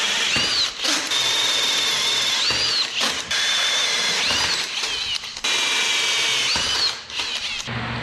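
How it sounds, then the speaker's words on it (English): Power drill boring holes in steel for a custom auto frame machine, a loud whining drive repeated in several bursts with short pauses and clunks between them, close by and with no talking. "I got all these holes drilled out now."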